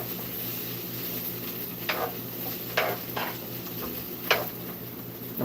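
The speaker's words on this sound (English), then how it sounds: "I'm gonna just let those saute in the oil a little." Vegetables sautéing in oil in a pan give a soft, steady sizzle with a few brief clinks from stirring or utensils, no talking heard.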